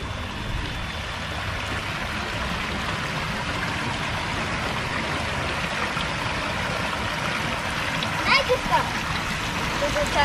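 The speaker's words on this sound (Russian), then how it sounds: "Вот это там какой водопад." Steady rushing water from a waterfall in Loga Park, a continuous broadband roar filling the whole stretch, with occasional nearby splashes and children's voices talking over it.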